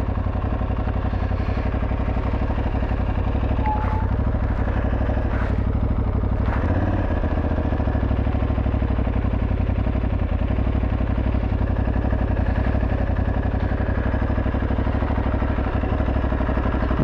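An Aprilia Tuareg 660 adventure motorcycle engine runs steadily throughout, a loud continuous mid-pitched drone with occasional clattering from the ride, no talking.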